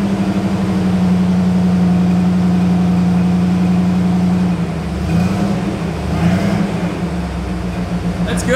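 Car engine idling steadily and loudly during wideband fuel mixture tuning, a constant low hum that shifts slightly as the mixture is leaned out, no speech.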